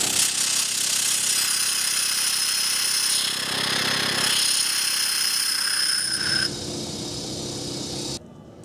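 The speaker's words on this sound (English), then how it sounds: "Now I've turned the smog pump on, and I'm going to let you hear how loud this is without the muffler on it." A smog pump runs without its muffler on a homemade waste oil burner heater, giving a loud, steady, rough mechanical drone with pulsing from the vane pump, close by, then dropping in level and cutting off near the end.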